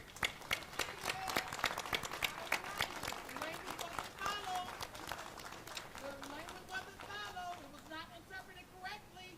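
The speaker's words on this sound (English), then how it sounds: "Please join me in giving them a warm round of applause" Applause from an audience at a Cleveland civic ceremony presenting Community Police Commission nominees, with sharp scattered claps at first that settle into steady clapping while a voice speaks over it.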